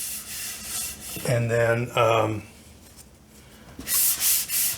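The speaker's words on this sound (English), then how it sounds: "I'm going to sand it down slightly" Sanding a painted wooden Hekman side table between coats, bursts of close, raspy rubbing strokes at the start and end, with a short spoken phrase in between.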